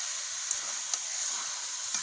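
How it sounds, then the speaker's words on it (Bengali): Chicken frying in a wok, a steady close hiss of hot oil with a few faint knocks as the pieces are turned and stirred. "চিকেনটা দিয়ে দেবো, নেড়ে নেবো, এভাবে নেড়ে নেড়ে কষে নেবো।"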